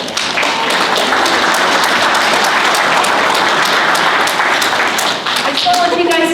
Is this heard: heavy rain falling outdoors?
no